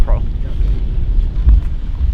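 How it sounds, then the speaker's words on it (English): Strong wind on a lake during a bass fishing trip with live bluegill bait buffets the microphone in a loud, continuous low roar with gusty surges throughout. "It's actually super windy out here"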